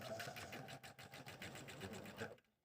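Close, steady machine stitching as an orange fabric leaf point is sewn to its right side, a continuous rapid whirring hum with slight pulsing that cuts off just before the end.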